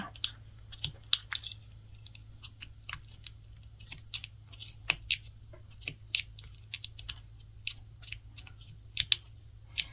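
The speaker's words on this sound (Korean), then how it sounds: "그리고는 이 가운데 부분을 쭉 절개를 해주시는 거예요." Scissors snipping through thick soft wool crochet yarn in a series of sharp, close clicks and crunches at an uneven rhythm over a steady low hum, with no talk.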